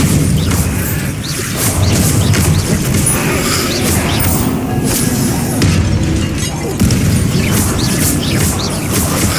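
Bombarda spell blasts in the video game Hogwarts Legacy, a dense run of loud booming explosions and shattering crashes over continuous battle noise, with no gaps.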